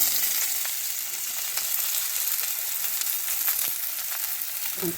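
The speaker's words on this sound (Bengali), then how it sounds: "পেঁয়াজ কুচিটা তেলের মধ্যে দিয়ে দেব।" Chopped onion sizzling in white oil in a wok, a constant close bright frying hiss with small crackles and a light stir near the end, no talking.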